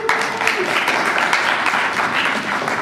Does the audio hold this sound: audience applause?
yes